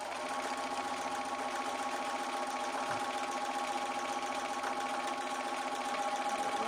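A sewing machine stitches a quarter-inch seam on 2¼-inch quilt binding, a steady, faint, even mechanical whir throughout.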